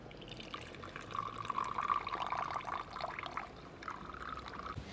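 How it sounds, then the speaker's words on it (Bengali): Homemade rosewater is poured from a container in a thin, steady stream, a close, gentle liquid trickle that fades briefly and then resumes. "খাঁটি যে গোলাপ জলটা আমি ঢেলে নেব।"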